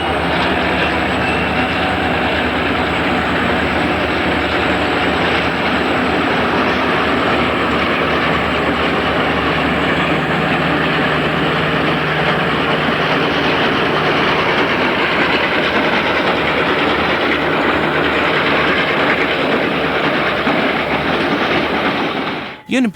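A Union Pacific C36-7 diesel leads a long string of road railers northbound across a railroad diamond: a loud, continuous roar of engine and rolling wheels with rattling clatter, fading abruptly at the end.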